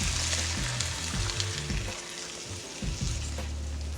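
Diced tomatoes stirred in a hot frying pan, with a steady sizzle and the spoon scraping through the mixture in a few short strokes, close up and without talk.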